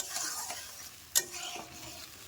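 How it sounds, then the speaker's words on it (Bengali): Snakehead fish curry stirred in a pan after salt goes in: soft scraping and a light sizzle with one sharp utensil clink near the middle, close and fairly quiet, with no voices. "নুনটা দিয়েও আমি ভালো করে আবারও নেড়ে চেড়ে দেবো।"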